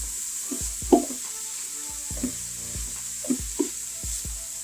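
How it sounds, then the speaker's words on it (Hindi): Keema mince being stirred in a pan with whole spices, a soft continuous sizzle under a handful of spaced spoon scrapes and knocks against the pan. "कीमा डालेंगे, मिक्स करेंगे, अच्छी तरह से मिक्स करेंगे इसको"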